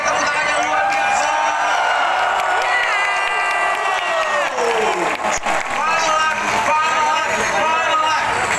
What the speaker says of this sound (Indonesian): Jakarta, silakan Anda berteriak dan berikan tepuk tangan yang luar biasa.